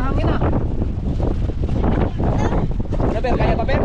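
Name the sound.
strong wind at sea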